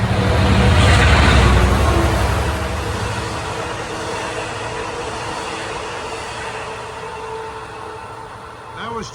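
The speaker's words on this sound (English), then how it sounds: "That was train 80 from Long Island City to Patchogue at 512." An LIRR commuter train running from Long Island City to Patchogue rumbles past close by, loud at first with a heavy low roar and rattle, then fading steadily as it moves away, with a faint squeal near the end.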